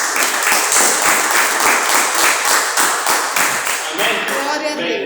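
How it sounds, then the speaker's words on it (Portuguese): A church congregation applauds together after a prayer, steady dense clapping filling the room and fading toward the end as a voice begins speaking over it. "E a igreja pode se assentar dando uma linda salva de palmas para Glória a Deus."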